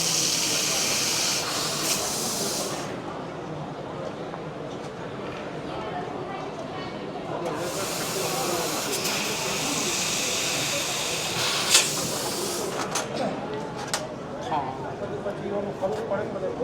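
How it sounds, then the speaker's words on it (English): A 4-in-1 laser welding machine cuts stainless steel with a steady, close hiss that swells in a few long bursts, while someone talks over it. "Okay, now the cutting is stainless steel."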